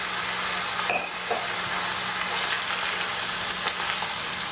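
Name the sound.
mixing al dente spaghetti mixture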